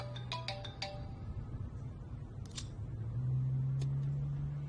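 A mobile phone ringtone beeps in a quick burst of electronic tones, with a couple of brief chimes later over low background hum.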